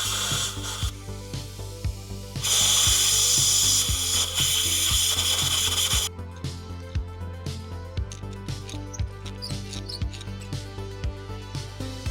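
Ratchet wrench clicking steadily while spark plugs come out of a BMW N63TU engine in the car, with repeated close, sharp ratcheting strokes and a brief louder hissing burst partway through.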